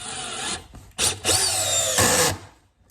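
Dewalt Extreme 12V 5-in-1 driver set to clutch 15 drives a large screw into wood through a pilot hole: a loud close motor whine in short bursts with a brief gap, then it winds down.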